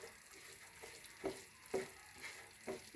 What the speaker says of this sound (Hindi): अब हम इन तमाम चीज़ों को तकरीबन 2 मिनट के लिए मिक्स करके पका लेंगे।